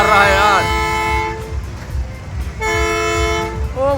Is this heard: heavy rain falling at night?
no